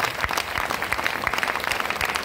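An audience at a business seminar bursts into applause, many hands clapping in a dense, lively patter that carries on steadily for a couple of seconds.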